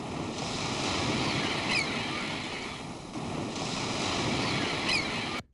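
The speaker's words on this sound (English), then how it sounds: "Let's try ocean wave." Ocean waves from a nature-sound recording wash in a steady broadband roar, swelling and easing in two slow surges before cutting off abruptly at the end.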